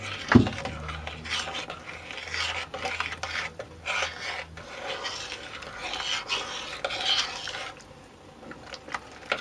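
A spoon stirs Marmite through onion and mushroom soup in a single pan, making close, continuous scraping and rubbing strokes against the metal, with one sharp knock near the start.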